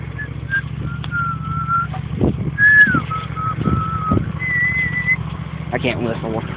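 A person tries to whistle over an idling engine, producing a few thin, wavering whistled tones between breaths and clicks, close and fairly faint against the steady low engine rumble.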